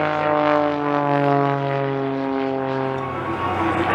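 A jet aircraft performs low aerobatic manoeuvres at an airshow, one engine at full power and the other at flight idle, giving a loud, steady, droning engine roar that holds throughout with little change.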